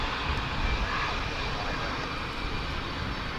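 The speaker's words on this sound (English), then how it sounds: "some 4K action with a DC-10/MD-10" A DC-10/MD-10 jet airliner at Dallas/Fort Worth International Airport, a steady, broad engine roar held at a constant level throughout, moderately loud with no talking.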